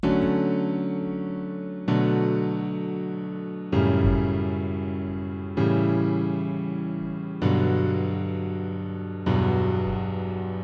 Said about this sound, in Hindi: पियानोस जो है वो काफ़ी हैवी हो गए हैं।